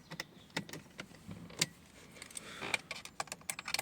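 Car keys jangle and clink in a Nissan 200SX as the key goes into the ignition, a series of sharp, close metallic rattles and taps spread over several seconds.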